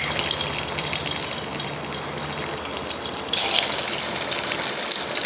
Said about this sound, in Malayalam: ചട്ടി നന്നായി ചൂടായതുകൊണ്ട് എണ്ണ വേഗം ചൂടായിട്ടുണ്ട്. അതുകൊണ്ട് നമുക്ക് ഈ ഇറച്ചി ഓരോന്നായിട്ട് അതിനകത്തോട്ട് ഇട്ട് കൊടുക്കാം.